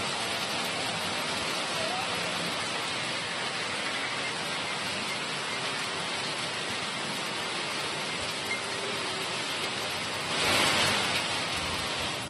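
Heavy rain pours down steadily in Karnataka, a dense and constant wash of noise that swells briefly near the end.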